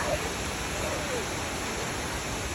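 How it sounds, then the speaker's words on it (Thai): The Khlong Lan waterfall in Thailand makes a steady, broadband rushing roar that fills the space evenly, with a faint voice briefly heard beneath it. "แล้วเราก็มาถึงแล้วนะครับน้ำตก"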